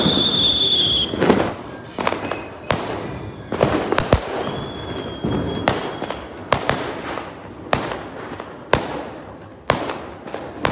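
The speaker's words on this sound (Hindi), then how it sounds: "इतने सारे बम फट रहे हैं और फिर भी बैन है बम" Firecrackers and fireworks burst during Diwali celebrations, a rapid series of sharp, loud cracks and pops at irregular intervals, with some whistling shells rising at the start.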